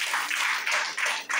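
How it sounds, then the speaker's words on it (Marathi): A church congregation claps loudly in thanksgiving at a prayer centre, with rhythmic bursts of applause rising and falling in quick pulses. "आपण जोरात टाळ्या वाजवून प्रभूला धन्यवाद देऊया"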